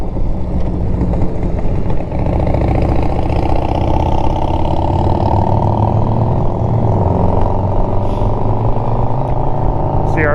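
A motorcycle engine drones steadily during slow, even acceleration on a group ride, with a continuous loud hum and rising tone plus wind rumble, and no talk over it.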